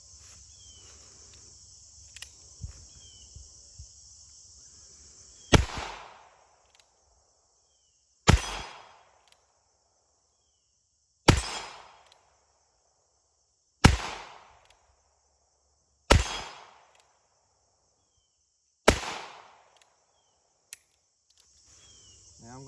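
Six sharp .22lr shots ring out one at a time from a Ruger Wrangler revolver, each with a bright metallic ping off 8-inch steel plates 15 yards away. Pauses of a couple of seconds separate the shots, with quiet in between.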